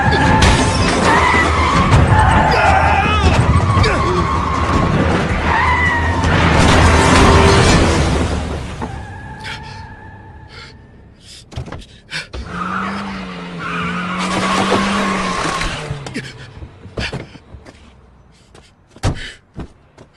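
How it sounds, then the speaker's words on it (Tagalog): A car in a Korean action film skids hard to a stop, with loud tire squeal, a crash and a slam up front. A quieter stretch of scattered knocks and thuds follows. "Ihinto mo ang sasakyan!"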